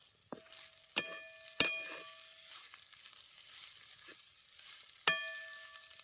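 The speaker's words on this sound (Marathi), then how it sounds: "खोबरं बी तेलात चांगलं भाजून घ्यायचं" Grated dried coconut roasting in oil in a pan for a dry drumstick dish, a soft, quiet sizzle broken by a few sharp metallic clinks of a spoon against the vessel.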